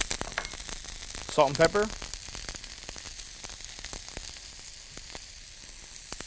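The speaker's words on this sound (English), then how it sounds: "I always start off by sauteing the onions and the jalapenos so the flavors mellow a little bit" Onions and jalapenos sautéing in a pan, a soft steady sizzle with light crackles, while a voice speaks briefly over it.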